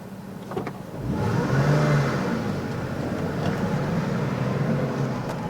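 Porsche 986 Boxster S flat-six engine starts and revs up, rising to a strong growl, then settles into a steady, loud idle close by.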